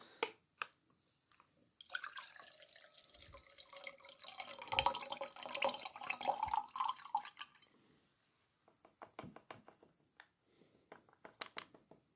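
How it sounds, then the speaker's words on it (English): Liquid pours and splashes into a glass in a steady stream for several seconds, followed by a few scattered drips and light clinks near the end. "for presentation's sake we'll pour it in a glass"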